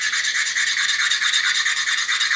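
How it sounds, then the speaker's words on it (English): Rapid back-and-forth rasping strokes of a stone sanding stick on a glass turkey call, held at about 30 degrees, bright and scratchy, evenly rhythmic and close. "I'm going to tilt the sanding stick back on an angle, about 30 degrees, and go back and forth with it."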